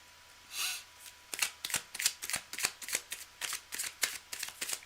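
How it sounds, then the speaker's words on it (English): Deck of tarot cards being shuffled by hand, an opening soft swish followed by a quick run of crisp, evenly spaced riffles and taps, close and clear with no talking. "I'm just going to shuffle up"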